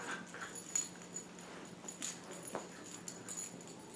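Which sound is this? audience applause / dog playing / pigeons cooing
dog playing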